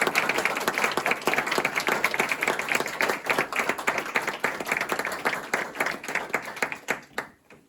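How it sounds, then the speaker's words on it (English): An audience claps steadily after a lecture, a dense run of close, crisp handclaps keeping up for several seconds before thinning out and fading at the end. "let's give another round of applause."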